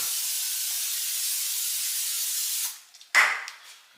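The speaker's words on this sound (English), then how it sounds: "I'm going to spray this with some cooking spray first." A steady, loud aerosol hiss of cooking spray runs for a few seconds, cuts off, then a few short closer bursts and clicks follow.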